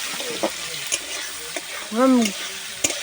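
Shrimp fry in bubbling hot oil with a steady loud sizzle, punctuated by sharp clicks and scrapes of a stirring spatula against the pan.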